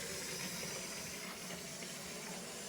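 Spices with ginger and garlic fry in a pan, giving a steady, faint sizzling hiss that continues without a break.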